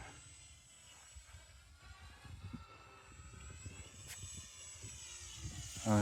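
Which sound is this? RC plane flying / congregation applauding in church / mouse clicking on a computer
RC plane flying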